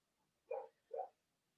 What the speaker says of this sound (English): My dog is still barking.